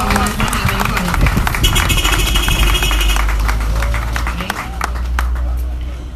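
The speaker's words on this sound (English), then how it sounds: "let's just give Christoph a round of applause" Audience applause for a candidate named Christoph at a community meeting in Barataria, a steady wash of clapping with background chatter and voices running through it at close range.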